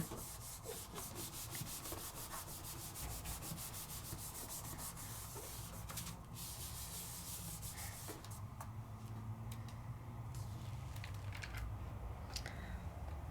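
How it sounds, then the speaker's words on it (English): Fingertips rubbing gouache paint onto paper in a stamping and stenciling craft session, a soft continuous scuffing and rubbing close by, quiet, with no talking. "I'm picking it up on my fingers there and rubbing it on"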